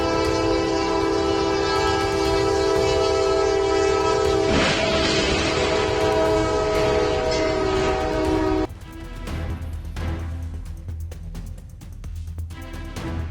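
Train striking a steel beam: a loud, sustained train horn blares over rumbling rail noise, with a harsh burst midway, then the horn cuts off abruptly, leaving clattering, rattling impacts and rumble.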